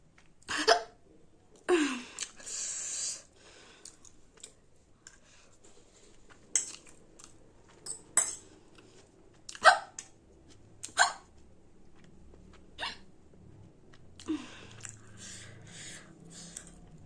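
Hiccups from someone eating fiery-hot spicy noodles during a hiccup challenge, a handful of sharp separate jerks spaced a few seconds apart, close and fairly quiet, with faint clinks of utensils between them.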